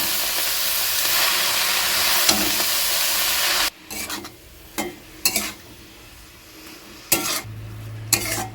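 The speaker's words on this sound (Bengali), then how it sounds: "এবার আমি খুঁটির সাহায্যে সব কিছু খুব ভালো করে মিশিয়ে নিচ্ছি" A spatula stirs pea greens (motor shak) cooking with fish head in a frying pan: a loud steady sizzle at first, then quieter stretches broken by several close scraping strokes against the pan.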